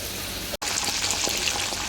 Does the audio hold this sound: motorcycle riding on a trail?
no